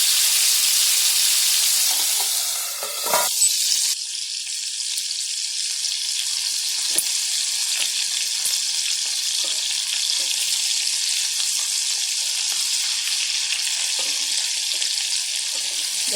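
Chicken leg tikka pan-frying under a lid over medium heat, giving a steady, close sizzling hiss throughout, with a brief clatter near the start.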